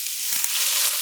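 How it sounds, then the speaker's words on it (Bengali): Washed mung dal frying in hot oil in a home kitchen, a steady close hiss and sizzle filling the whole moment without any voices. "এখন আমি মুগ ডালগুলা তেলে ভাইজে নেব।"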